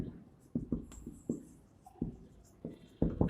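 Pen writing on paper, heard as close, soft scratchy strokes and taps in an irregular rhythm, with no talk.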